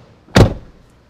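A single solid thud of a 2025 GMC Terrain Denali compact SUV door shutting, close and loud, with a short decay and no talk.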